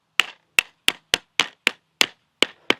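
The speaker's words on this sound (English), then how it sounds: "I take a hammer," A hammer taps plastic paver edge restraint pieces together outdoors: nine sharp, dry knocks in an uneven rhythm, each one crisp and short with a quick decay, close and clear, with no talking.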